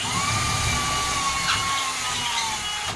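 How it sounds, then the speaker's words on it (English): A power drill bores small pilot holes in wood, a steady loud high motor whine holding for about three seconds with a brief surge midway, close up and without talk. "then just drill your little pilot holes"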